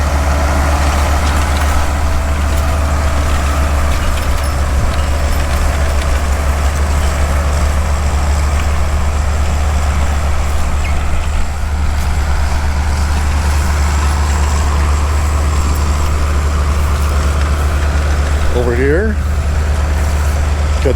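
An Allis-Chalmers 22 tractor pulling a four-bottom plow at a fall plow day drones with a steady low engine hum, loud and continuous throughout, while a voice talks over it.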